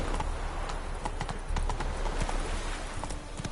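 Roach the horse's hooves clip-clop steadily and close in The Witcher 3: Wild Hunt, a continuous trotting rhythm over a low rumbling ground bed, with no talking.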